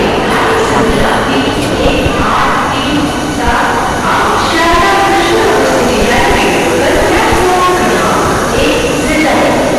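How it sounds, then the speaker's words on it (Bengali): An AC local train runs at Sealdah railway station amid a busy platform. Its rolling rumble mixes with constant crowd noise and voices at a steady, loud level. "আর সামনেই দেখবেন, এখন দেখবেন এসি লোকাল।"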